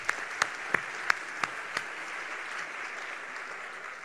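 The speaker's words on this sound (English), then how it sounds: "Can you give her one more round of applause?" A handful of sharp, evenly spaced claps ring out near the start, then give way to a faint, diffuse patter of audience applause that slowly fades.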